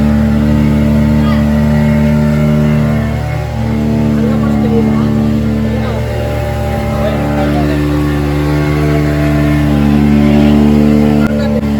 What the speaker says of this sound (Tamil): இப்போ நம்ம ஒரு போட் வருது